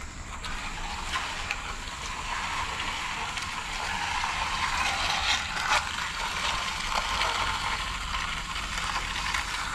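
A ratchet tightens bolts during a patio installation at a new house, giving a continuous, dense clicking and grinding that stays loud and even throughout.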